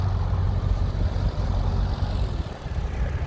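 A New Holland tractor engine, one of a pair of large tractors totalling 400 horsepower used for land clearing and pulling trees, runs with a steady, loud, deep rumble throughout, with no talking.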